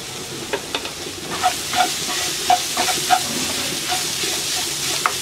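Minced chicken seasoned with paprika, pepper and salt frying and being stirred in a pan, a continuous close sizzle and hiss punctuated by soft scraping taps of the spoon.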